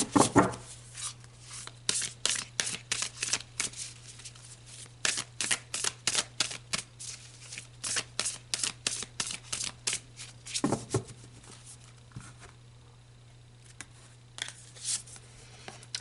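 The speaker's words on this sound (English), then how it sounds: "let's pull you a couple more cards" Tarot cards are shuffled by hand in a long series of crisp riffles and snaps, close and dry, coming in quick repeated bursts that thin out toward the end.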